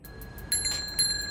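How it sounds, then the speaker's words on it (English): A bicycle bell rings in ordinary air, its bright metallic tones starting softly and then ringing out more strongly in quick repeated strikes that sustain over a quiet background. "This is how a bicycle bell sounds here on Earth."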